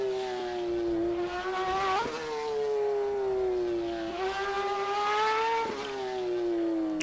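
Race car engine in the sim racing game rFactor 2 at Paul Ricard, a steady high-pitched whine rising and falling with throttle and gear changes, with two sharp shift breaks, loud and continuous with no talking.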